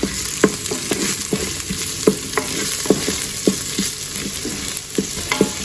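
Two lengthwise-split green chillies frying in an Instant Pot on sauté mode for a black chickpea kadala curry, with a steady close sizzle broken by repeated sharp scraping stirs at an uneven rhythm, no voices.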